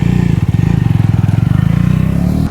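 A 2020 BS6 Bajaj Dominar 250 motorcycle engine runs steady and close with a pulsing low idle, rising slightly as the ride begins, with no voices.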